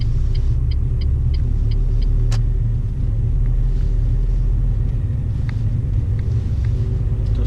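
A car drives along steadily during a driving lesson, with a constant low engine and road rumble filling the cabin, a soft repeated ticking early on and a brief sharp click partway through.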